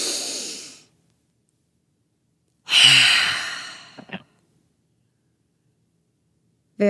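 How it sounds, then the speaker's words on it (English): Deep breaths during a guided breathing exercise: a long exhale, then a pause, then another big breath in and out with a soft sniff, close and clear, with no talking. "Take a really deep breath with me. Just inhale really big."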